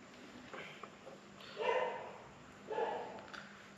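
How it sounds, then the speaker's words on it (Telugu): Dogs bark twice from a distance at night, two short bursts over a quiet hiss, with no nearby voices. "కుక్కలు ఒకటే కరెక్ట్గా నేను గోస్ట్ హంటింగ్ చేసే టైంలోనే అరుస్తాయి"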